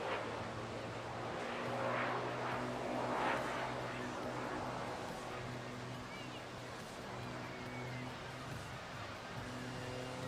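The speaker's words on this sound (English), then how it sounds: "you'll remember this guy and his little Gee Whiz, often referred to as the muscle biplane" Richard Goodwin's Gee Whiz muscle biplane, a very small aircraft with extra thrust on each side, flying at the Bournemouth Air Festival, a steady distant engine drone with a low hum that rises and falls slightly while a commentator talks over it.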